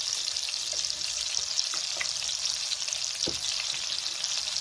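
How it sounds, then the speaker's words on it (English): Meatballs sauté in a hot pan with a steady, close, bright sizzle throughout and a few faint stirring knocks, no voices. "When you saute, it enhances the flavor of your meatballs and also gives you a nice color."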